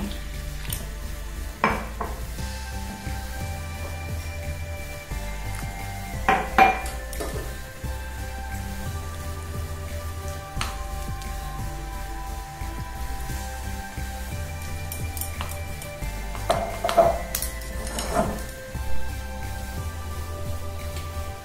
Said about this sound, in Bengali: এবার আমরা অল্প অল্প করে জল দিয়ে মিশাতে থাকবো।